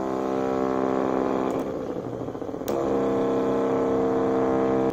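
A DC motor powered through solar panel wires hums with a steady, close whir and a brief wavering dip in the middle before settling back to an even drone.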